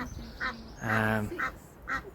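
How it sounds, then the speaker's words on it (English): Harsh honking calls from geese with goslings, a few short bursts and one longer blast, close by with light outdoor background. "here we have Mummy and Daddy Goose and their family of goslings."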